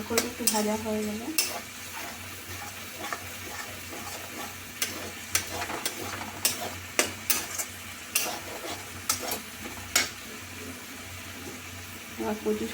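Grated coconut frying and being stirred in a pan, a soft ongoing sizzle with scattered spatula taps and scrapes against the metal, a voice briefly heard at the start.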